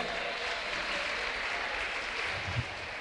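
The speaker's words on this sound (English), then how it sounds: "Please let's clap for them." Steady applause from an audience at a school science-and-art debate, a dense even wash of many hands clapping throughout, with a brief low thump near the end.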